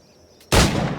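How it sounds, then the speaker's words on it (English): A pistol in Assassin's Creed IV Black Flag fires a single loud, sharp shot that breaks a near-silent pause, with a brief echoing tail after it. "Pull off a few shots if you like, get a feel for it."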